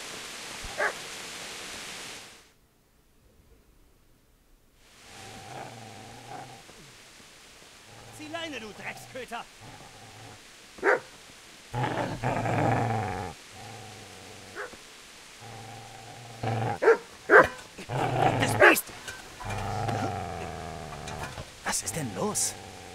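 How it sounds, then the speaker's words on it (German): A butcher's dog in the medieval game Kingdom Come: Deliverance barks and growls in short irregular bursts, some loud and sharp, mixed with game ambience and brief character voices. "Ist das nicht der Köter des Fleischers?"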